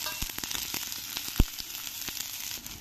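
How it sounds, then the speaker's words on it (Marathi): Chopped onions fry in hot oil in a pan, a soft steady sizzle with scattered crackles and one sharp pop midway, heard alone without voices. "हा कांदा छान भरपूर परतून घ्यायचा आहे"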